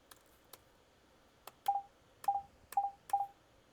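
Short synthesized beeps from SuperCollider with a brief envelope sound as a few quick clicks and then four crisp tone blips in a loose rhythm, faint over low background hiss.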